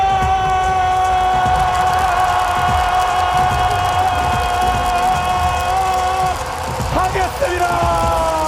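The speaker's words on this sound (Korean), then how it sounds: "함께해주신 많은 분들의 뜨거운 환호 함성과 함께" A large crowd cheers, roars and shouts at the League of Legends Worlds 2023 esports finals, the dense noise running steadily throughout over sustained droning arena tones, with a brief dip near the end.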